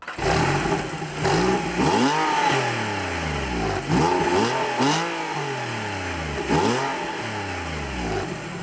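A 2009 Porsche 997.2 Carrera 4S flat-six engine rising and falling through repeated gear pulls while driving, loud and close, with steady road and exhaust noise between shifts.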